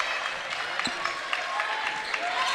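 Fans at a Nelson County basketball game cheer and applaud steadily, a dense, fairly loud crowd roar with occasional sharp claps and squeaks.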